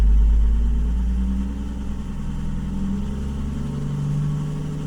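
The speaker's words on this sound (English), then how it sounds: "So if I rev the car a little bit, that should come down." A BMW E60 engine, smoking on startup, is revved once then settles back, a loud low roar easing into a steady idle hum close by.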